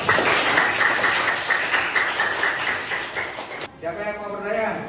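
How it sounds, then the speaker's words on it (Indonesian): Crowd of listeners in a discussion session clapping together, a dense steady burst of applause that lasts several seconds and then stops abruptly, followed by a single voice. "Tepuk tangan dulu."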